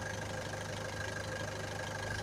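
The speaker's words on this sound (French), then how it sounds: "on laisse le moteur tourner pendant une demi-heure" A car engine runs at a steady idle to warm up after a head gasket repair, with a constant mid-pitched hum, a faint knocking pulse and no speech.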